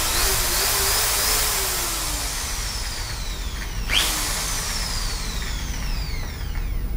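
A Huspanda HRD 1301 household power drill runs in reverse with no bit fitted, a steady close motor whine whose pitch sweeps and shifts while it spins alone.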